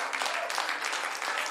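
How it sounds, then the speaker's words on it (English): A church congregation claps in praise, a thick burst of many hands striking together continuously and close, with voices faintly mixed underneath. "Let's start by giving God praise, a clap offering."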